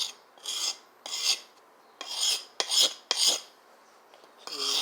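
A blade edge is sharpened with rasping strokes, about seven short scraping passes at an irregular rhythm, close and fairly loud, with quiet pauses between strokes and no talking.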